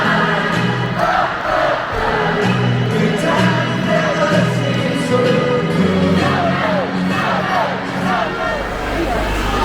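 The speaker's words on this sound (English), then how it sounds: "obviously always empty seats, but it's still a big crowd" Big football crowd in a stadium at an England vs Scotland women's match, a steady loud roar of babble and occasional shouts filling the whole stretch, with nearby talk mixed in.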